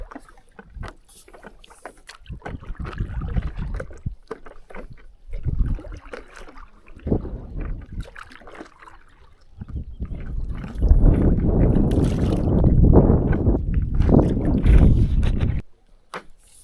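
A kayak or canoe is paddled on a clear lake, with irregular splashing strokes and water swishes near the microphone, growing louder and busier toward the end amid some wind noise.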